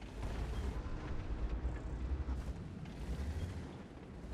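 Tank cannon shots in World of Tanks: deep, booming low rumbles with a heavy, sustained roar, fairly faint and distant, with no talking.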